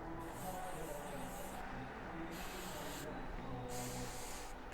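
Several short bursts of TRESemmé Hold 4 hairspray hiss, close and fairly quiet, separated by brief pauses.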